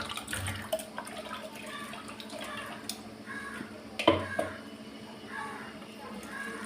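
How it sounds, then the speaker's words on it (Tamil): Dissolved tamarind water poured from a mixer jar in a home kitchen, a soft, faint splashing trickle with a brief louder splash midway, over low background noise. "இப்போ இந்த மிக்சி ஜாரில் புளியை கரைச்சி ஊற்றி வச்சுக்க போகிறேன்."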